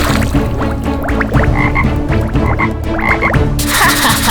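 Frogs croak loudly and repeatedly in a dense chorus, their rapid raspy calls overlapping in irregular bursts over a steady outdoor background, with no voices.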